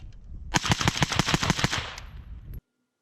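A rapid string of roughly a dozen suppressed gunshots fired through a SilencerCo Velos LBP low back pressure silencer, sharp evenly spaced reports with a short decaying tail.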